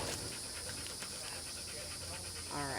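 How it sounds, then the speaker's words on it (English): Dogs nearby pant hard in quick, steady rhythmic huffs over a constant hum, ending with a brief whiny whimper near the close. "If you hear heavy panting, that's not us. We're surrounded by dogs right now."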